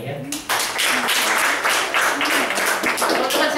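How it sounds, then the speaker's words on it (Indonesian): Audience clapping for a participant at an Indonesian business seminar, starting after a brief pause and filling the room with dense, sustained applause from near and far, lasting over three seconds with some speech mixed in. "Tepuk tangan untuk Bapak ini ya."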